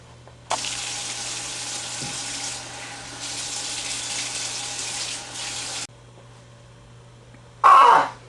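Water runs from a tap into a sink in a steady splashing stream for about five seconds, then stops; a short louder splash and a throat-clearing-like sound follow near the end.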